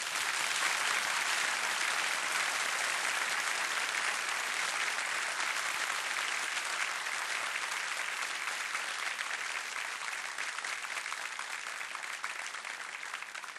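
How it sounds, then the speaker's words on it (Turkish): Enthusiastic applause from a concert audience at a Turkish classical music performance by radio artists, a dense, sustained roar of clapping that eases slightly toward the end, with no talk. "bu coşkulu alkışlarınız için çok teşekkür ediyoruz"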